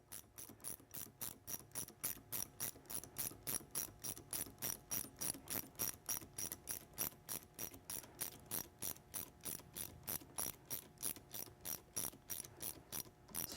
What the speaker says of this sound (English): Take our 1/2 inch ratchet again.